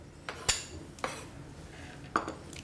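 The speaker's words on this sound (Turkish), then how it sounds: "Çok az bir tereyağı atıyorum." A little butter goes into a small cooking pot, bringing a few sharp metallic clinks and taps of a utensil against the pot at uneven intervals, close and clear, with no talking.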